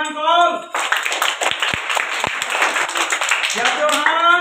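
A room of children applauds reading competition winners, a dense burst of overlapping claps lasting a few seconds, bracketed by an adult voice speaking before and after.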